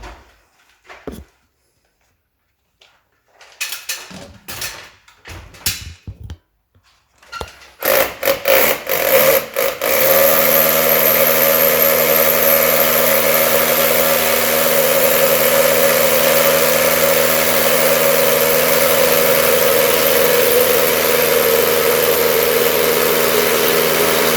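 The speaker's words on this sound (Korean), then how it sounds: "마킹이 돼서 이제 눈에 보이니까 한번 뚫어보도록 하겠습니다" A few short scattered clicks and bumps, then a power drill starts drilling a hole for a drop-in anchor, whirring steadily and loudly at a constant pitch for the rest of the clip.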